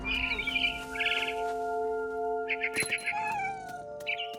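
A cat meows several times in the video game What Remains of Edith Finch, with short bird chirps in between and sustained background music tones, all fairly close and clear.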